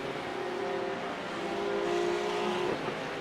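Race car engines in the iRacing Porsche 911 Cup (992.2) game at Le Mans, a steady moderate drone with a pitch that rises and shifts as a car closes from behind, no talking.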